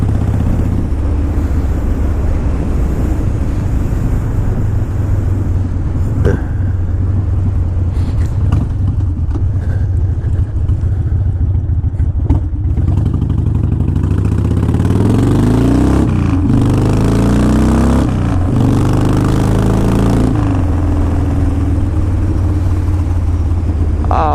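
A 2005 Harley-Davidson Wide Glide motorcycle on a cold-weather test ride, its engine rumbling steadily and close throughout, with wind noise, a rising rev near the end, and no talk over it.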